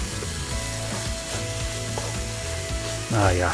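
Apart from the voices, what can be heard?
ginger and garlic sizzling, mixed in pan for beef with broccoli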